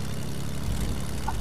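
A steady, low propeller-engine drone hums evenly throughout, coming from an airplane in the video game Fortnite.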